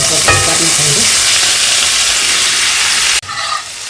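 Boiled elephant foot yam hits about two tablespoons of hot oil in a pan, a loud close steady sizzle with a few clattering stirs, dropping to a lighter hiss at the end.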